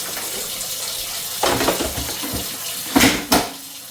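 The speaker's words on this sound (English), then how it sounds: "We're taking a cup of hot water, as hot as you can get it out of the sink." Hot water from a kitchen sink tap runs in a couple of short splashing bursts, moderately close, with brief quiet gaps between the flows and no voices.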